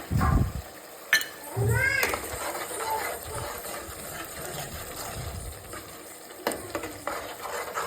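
Tomato with pepper and cumin frying in a pan: a sizzle with scraping stirs, loud clattering knocks at the start, and talk heard over the cooking.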